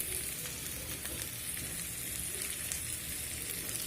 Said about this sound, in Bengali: এখন এই যে ফুলকপি আলু ভাজছি।